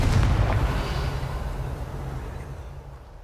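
A Confringo spell blast in Hogwarts Legacy erupts as a heavy booming explosion, loud and close, its rumbling roar slowly fading away over a few seconds, with no talking.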